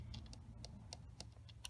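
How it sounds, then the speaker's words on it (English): Soft clicks of typing on a computer keyboard, light irregular taps spaced a fraction of a second apart, faint and close in a quiet room. "Let's type in"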